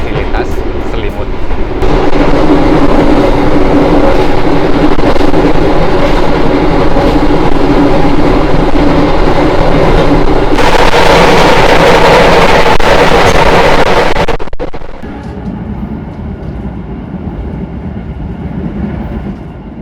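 Inside the Wijayakusuma executive-class train on a night run, a loud continuous rumble of wheels and carriage fills the space, with a brighter rushing stretch that drops suddenly to a quieter hum. A voice speaks over it at times.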